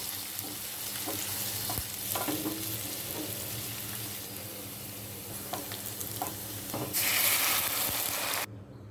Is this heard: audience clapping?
no